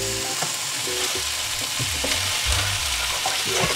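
Carrots, onions and cabbage sauté in a pan for Japanese yakisoba, a steady loud sizzle with scraping stirs and clinks running throughout, close up and without talk.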